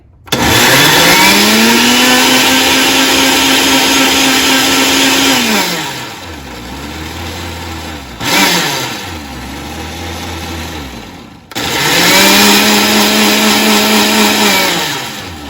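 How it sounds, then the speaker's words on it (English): A loud blender blending cilantro lime vinaigrette whirs at high speed, slows into a lower chugging pulse, briefly revs, then spins back up to full speed. "now we're going to go and blend it up."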